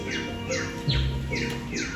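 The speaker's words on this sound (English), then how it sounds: "Let's all sing like the birds sing. Tweet, tweet, tweet, tweet, tweet." Animatronic birds in the Enchanted Tiki Room show at Walt Disney World's Magic Kingdom chirp and tweet in a run of quick, bright, descending calls, about one every half second, over a low musical backing.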